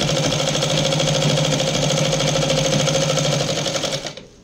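Sewing machine stitching along the edge of petticoat fabric, a steady close rapid mechanical whir running continuously for about four seconds before stopping abruptly.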